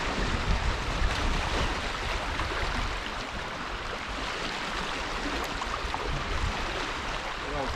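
A light onshore wind blows steadily at the water's edge on a bass fishing shore, giving a constant, even rush with soft buffeting on the microphone throughout.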